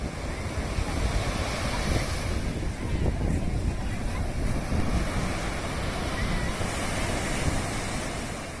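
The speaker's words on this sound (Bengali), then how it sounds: "দিনের শেষে সমুদ্রের পাড়ে দাঁড়িয়ে এই অবিরাম ঢেউ আর আওয়াজ আর সাথে এই শীতল হাওয়া" Continuous ocean surf rolls onto the beach at Puri at dusk, a steady loud wash of breaking waves with a cool wind buffeting the microphone and no voices.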